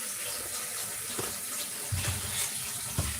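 Tap water pours steadily into a pot while ogbono and catfish pepper soup is being made, a continuous loud hiss and splash that runs throughout with a few soft knocks near the end.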